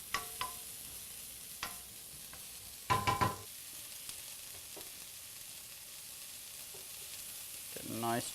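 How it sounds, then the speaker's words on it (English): Sausage links sizzle in a paella pan as a faint, steady frying hiss, broken by a few sharp clinks of a utensil against the pan and some stirring scrapes near the end. No one speaks. "Get a nice char on our sausage links here."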